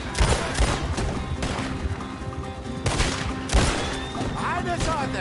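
Gunfire in the Western video game Red Dead Redemption 2 during a chaotic shootout, dense overlapping shots and crashes amid a loud busy mix with voices shouting over the action.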